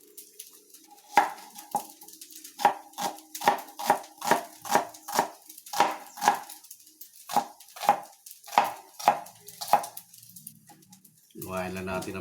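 An onion is chopped finely on a board with a knife, a steady run of close, crisp knocks in quick rhythm that pauses briefly before a final burst of cutting or scraping at the end.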